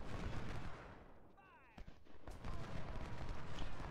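Massed musket and artillery fire in Ultimate General Civil War, a dense crackling fusillade of shots with a brief lull before volleys resume, rumbling under faint voices.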